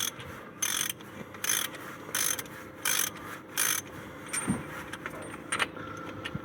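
Ratchet socket working on spark plugs of a Toyota Corolla 2E engine, five short bursts of quick ratcheting clicks at even intervals, followed by lighter clinks and taps of tools, close and alone.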